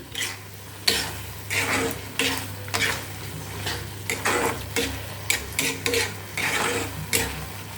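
Capsicum masala fries in oil in a pan, with a steady sizzle and frequent ladle scrapes and clinks against the metal coming in an irregular stirring rhythm, close and fairly loud.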